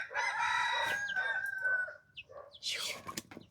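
A rooster crows at a rural Thai village home, one long loud call close by that fades out, followed by a few shorter clucking sounds.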